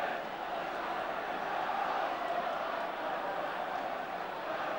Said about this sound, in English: Well, the crowd are loving this.